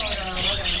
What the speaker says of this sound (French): Là, il y a 1 million d'oiseaux